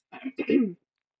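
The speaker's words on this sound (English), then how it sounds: "excuse me, I'm getting over a cough." A single throat clearing from a person getting over a cough, a short rough burst lasting under a second, close and fairly loud, followed by silence.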